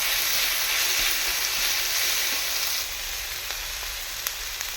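Garlic and ginger fry in a hot pan for a chicken dish, a loud continuous close sizzle and hiss that drops a little partway through, with occasional small pops and crackles and no voices.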